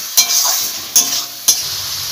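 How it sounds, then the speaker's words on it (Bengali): Ginger and garlic frying in oil give a steady bright sizzle, broken by three sharp scrapes of a spoon stirring the pan at roughly even intervals. "আদা আর রসুনটা ভালোভাবে ভেজে নিতে হবে তেলের মধ্যে"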